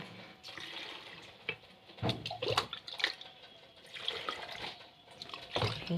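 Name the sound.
water poured into jars for pickling olives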